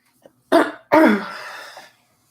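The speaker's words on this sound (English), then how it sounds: "you might hear me clearing my throat a lot" Someone clears their throat twice up close, a short rasping burst followed by a longer, gravelly clearing that trails off into quiet.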